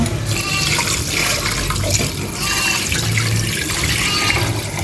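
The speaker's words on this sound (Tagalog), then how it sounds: "Lagyan ko na po ito ng tubig. Punong-puno po." Water poured into a cooking pot until it is full, for a home-cooked nilaga broth: a steady, loud, continuous gush and splash filling the pot, close by with no pauses and no talk.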